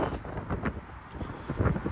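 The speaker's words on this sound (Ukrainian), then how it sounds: "Вітер, мабуть, задуває" Wind blows outdoors at a Texas truck-driving school, buffeting the microphone in a dense, rumbling roar with no talk.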